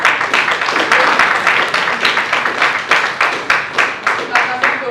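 An audience at a talk applauds, a room of hands clapping in a loose rhythmic pattern with pulsing swells, loud and near, continuing steadily for several seconds.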